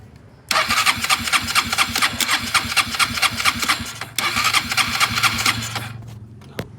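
An engine with low fuel in its carburetor cranks in two loud rhythmic bursts of starter churning, close by, failing to catch, with a brief pause between them and a short knock at the end.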